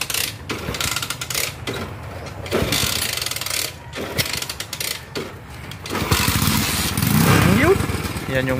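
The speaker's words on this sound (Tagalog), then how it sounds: "Yan yung motor na binili ko sa kanya." An eight-year-old motorcycle at a rural house sputters and chugs in uneven mechanical pulses, rising louder toward the end, with people talking nearby.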